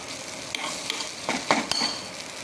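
Dried fish frying in a pan, a steady close sizzle with a few light scraping stirs and faint utensil clinks.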